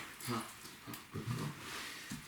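A dog in a training session gives a few close whimpers and yips in short bursts, with no talking.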